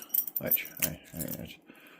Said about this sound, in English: let's grab the keys to Rusty